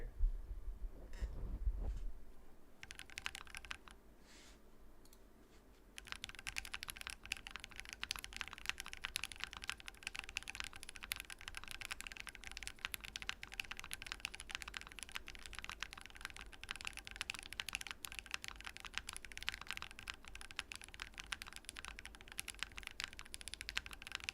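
Steady clicky typing on a custom-built Geistmaschine Tailored Edition mechanical keyboard fitted with TX stabilizers, a brief low thump and quieter stretch at first, then dense continuous keystrokes close to the mic with no voices.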